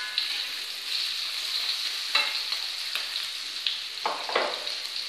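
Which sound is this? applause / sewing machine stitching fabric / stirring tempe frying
stirring tempe frying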